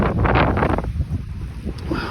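Wind and sea on a sailboat sailing near the coast out of Barcelona, loud buffeting wind gusts on the microphone over rushing water, strongest at first and easing slightly, with no talk.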